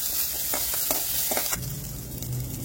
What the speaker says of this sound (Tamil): பச்சை மிளகாய் 2, கருவேப்பிலை ஒரு கொத்து நல்லா வதக்கி விட்டுறலாம்